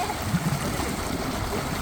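Steady rushing mountain stream water flows continuously, a broad even wash of sound with no voices.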